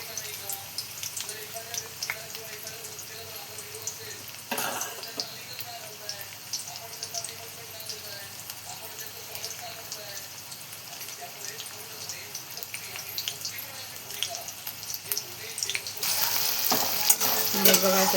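Tomato and onion fry in hot oil in a pot for a pea and potato vegetable dish, giving a steady close sizzle with scraping stirs throughout that grows louder and brighter near the end.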